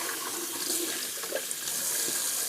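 Very hot water runs from a tap into a sink, a close, continuous splashing hiss with small gurgles as it hits the basin, with no one speaking.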